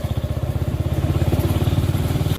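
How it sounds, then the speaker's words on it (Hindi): A motorcycle engine runs steadily in third gear along a narrow residential society lane, its fast regular exhaust pulses loud and close throughout with no talking. "मैंने 3rd गियर तक चलाई बाइक"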